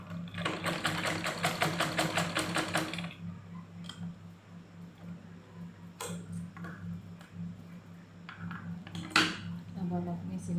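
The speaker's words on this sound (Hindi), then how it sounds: "अब हम अपनी सिलेंगे बेल्ट।" A sewing machine stitches a salwar belt in a fast rhythmic rattling burst for about three seconds, then falls quiet to faint clicks and handling sounds over a low steady hum.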